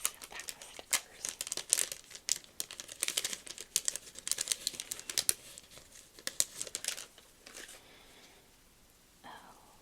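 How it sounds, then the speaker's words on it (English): Crinkly plastic pack of stickers being opened and handled up close, a run of quiet crackling and rustling bursts that thin out and fade near the end. "Let's see what's in this pack of stickers."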